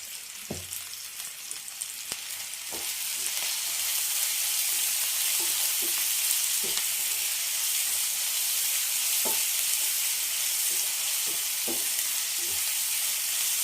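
Green chillies with salt sizzle in a hot pan for a cauliflower fry, a steady, bright frying hiss that swells after a few seconds, broken by occasional scraping clicks of stirring.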